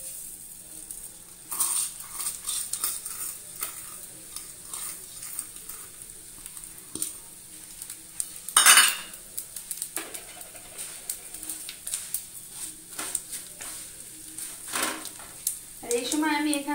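Vermicelli fries in a pan for a milk pudding with fried chhena balls, a soft sizzle broken by stirring scrapes and utensil clicks, with a low steady hum underneath and pigeon-like cooing faintly in the background.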